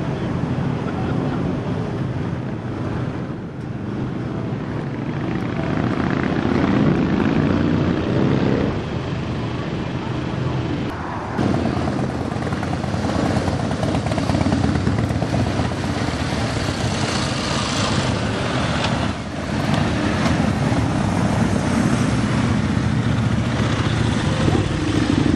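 Engines rumble continuously at the May Day bike rally in Hastings, a thick, loud mechanical drone of several motorcycles idling and revving nearby, with wind buffeting and someone talking over it.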